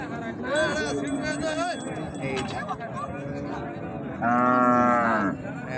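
Jersey cattle moo at a cattle market, with a long, loud moo near the end and a rise of lowing earlier, while voices talk over the busy crowd noise.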